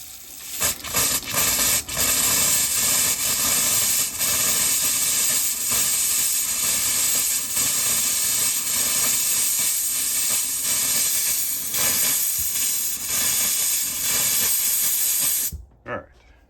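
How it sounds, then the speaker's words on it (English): Hot water runs from an RV sink faucet during draining: a continuous loud hissing spray with occasional sputters, holding steady for about fifteen seconds before cutting off abruptly. "Switch it back to the hot water."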